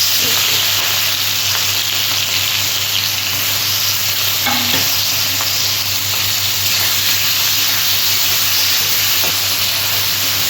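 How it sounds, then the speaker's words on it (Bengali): Marinated prawns with turmeric frying in hot oil, a loud, steady close sizzle and hiss that holds throughout with occasional stirring knocks and no talking. "তেলটা গরম হয়ে গেছে, আমি চিংড়ি মাছগুলো ভেজে নিচ্ছি।"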